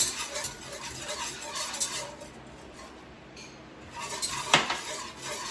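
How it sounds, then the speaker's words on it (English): A whisk clatters and scrapes against a hot pan as beef gelatin is stirred in, quick metallic rattles in close bursts with a brief quieter lull midway. "We're going to start whisking right away because it does stick to the bottom and it'll start to clump."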